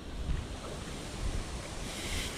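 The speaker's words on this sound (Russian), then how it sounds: "Ветер разгулялся, вообще жесть." Strong wind buffets the microphone in a constant rumbling roar, with gusts rising and falling and a hissing, surf-like wash behind it.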